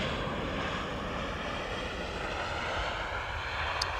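A TAP Air Portugal airliner taxis after landing at Amsterdam Schiphol, giving a continuous, even engine roar at moderate distance with no break. No one speaks over it.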